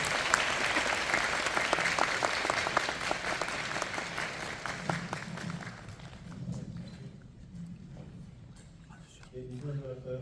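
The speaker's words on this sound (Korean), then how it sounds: "큰 박수를 부탁드립니다." A cinema audience applauds the director and cast as they enter for a post-screening talk for a Korean film, dense clapping for several seconds that thins and fades, then speech resumes.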